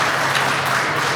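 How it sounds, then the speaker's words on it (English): Wrestling crowd at a Victory Pro Wrestling championship match cheering and applauding steadily, a dense continuous roar of claps and voices throughout. "Crowd loving what they're seeing."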